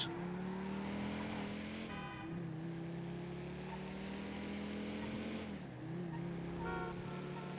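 Car engine in a GTA roleplay game drive, a continuous mid-loud motor drone rising and dipping through gear changes, heard alone without talk.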